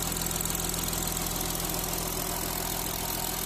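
An Audi A6 C7 3.0 TDI diesel engine idles steadily with a fast, even ticking of the injectors layered over the low rumble, continuous and close throughout.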